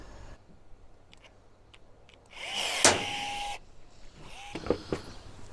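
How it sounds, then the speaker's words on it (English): A pop rivet being set to fasten a logo badge on an 80 series Land Cruiser, heard as a brief, fairly loud mechanical whir and snap with a few faint clicks and clatters around it. "So just pop the rivet in there."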